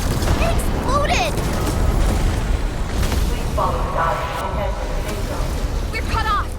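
A device exploding in the game Arknights: Endfield, deep booms and rumbling bursts under steady low roar, with voices talking over the blasts.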